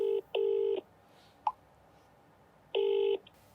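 Telephone keypad dialing tones come close and clear, with a short beep, a longer steady tone, a brief click, then another sustained tone, over quiet background with no talk.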